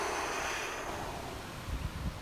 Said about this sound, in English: exhale completely through our mouth, making a whoosh sound like this